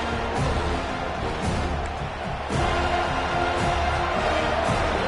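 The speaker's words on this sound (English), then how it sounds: "Listen to this crowd just shaking the girders of this place, trying to help their defense." A large stadium crowd at a college football game, in a video game, roars continuously at a distance, a dense wash of cheering and noise with a brief dip before swelling again.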